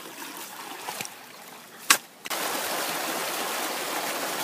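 Diverted water flows into a temporary site, a steady broadband rush that swells louder after a brief splash and knock, continuing evenly to the end.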